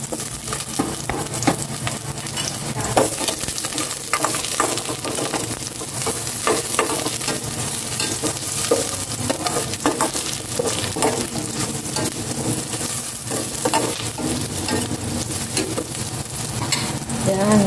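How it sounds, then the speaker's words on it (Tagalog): Garlic and onion sauté in a hot pan with a loud, dense sizzle and frequent stirring scrapes, close and continuous throughout with no voices. "Igisa ko na itong bawang."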